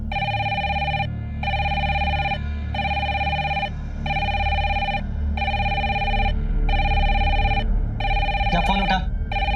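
A telephone rings indoors in loud, evenly spaced electronic bursts with short gaps between them, repeating about seven times over a low background rumble.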